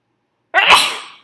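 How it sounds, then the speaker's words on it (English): A single loud, close sneeze bursts out after a moment of silence, with a sharp onset and a breathy tail that fades within about a second. "Ooh, let me sneeze."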